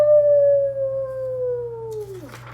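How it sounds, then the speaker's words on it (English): A dog howls loudly in one long, steady drawn-out cry that slowly falls in pitch and trails off at the end, close and alone. "He howled instead, very loudly."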